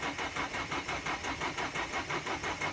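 A diesel van engine cranks over in a cold start, turning steadily in about a dozen even, rhythmic pulses without catching, close and continuous.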